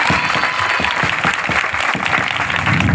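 A church congregation claps for Jesus at a pastor's gathering, dense and loud applause with a rhythmic pulse running through the whole stretch, no voices on top.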